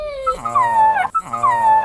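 A voice imitating a dog's whimper, two drawn-out whining cries with rising and falling pitch, close and loud, alone.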